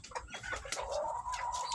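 Several chickens squabbling over coconut meat cluck and squawk over one another in a busy, overlapping jumble, with short sharp calls and a longer drawn-out note near the middle.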